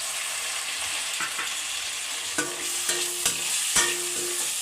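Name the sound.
capsicum frying in a pan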